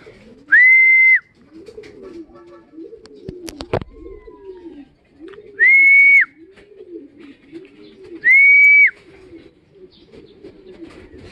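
Racing pigeons back from a fun race, heard as three loud, clear whistled tones at regular intervals over a steady, rhythmic low cooing that runs throughout, with a single sharp knock partway through.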